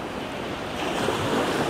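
Sea surf near Stella Polaris in the Rome area, a continuous loud wash of waves blended with wind rumble against the microphone, close and unbroken.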